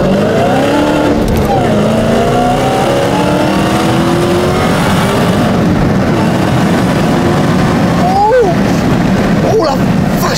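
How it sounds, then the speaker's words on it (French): A Dodge Hellcat accelerates hard, the engine roaring loud and close through climbing gear pulls with brief shift breaks, while a voice talks over it. "on va pouvoir tout simplement faire une petite accélération et c'est parti."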